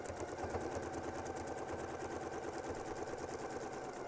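Close and fairly quiet, a sewing machine stitches along a Westalee Yin and Yang quilting template with a rapid regular needle beat that never stops.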